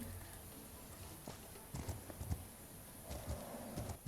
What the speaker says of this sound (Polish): fajnie tutaj pokusować sobie, pogalopować tymi zielonymi terenami